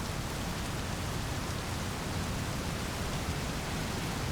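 Steady rain ambience, a dense even hiss of falling drops on surfaces, continuous and soft with no voices.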